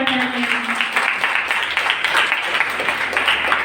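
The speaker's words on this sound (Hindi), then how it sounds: "इसके लिए जोरदार तालियां।" Audience applause in a college auditorium after quiz winners are announced at a World AIDS Day event, a steady wash of many hands clapping throughout, fairly loud and close, with no talk over it.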